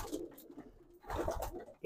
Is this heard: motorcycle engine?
no